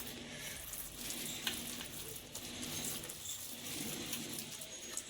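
Bottle gourd koftas sizzling in hot oil in a kadhai, a soft, steady crackle and bubbling that stays even and close throughout, with no talking.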